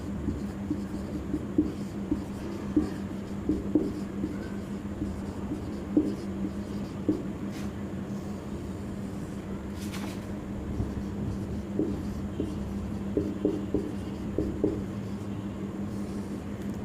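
Handwritten notes are scratched out with a pen on paper in a quiet room, a faint run of irregular short strokes and taps that continue steadily, with a low constant hum underneath and no talking.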